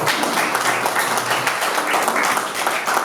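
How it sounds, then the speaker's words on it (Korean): An audience at a Korean press-club broadcast event on Bitcoin mining gives a short round of dense, steady applause lasting a few seconds, with no clear talking over it. "박수 한번 해주시죠"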